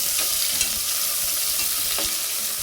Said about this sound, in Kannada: ಇದು ಸಾಂಬಾರಿಗೆ ಒಗ್ಗರಣೆ ಮಾಡ್ತಾರೆ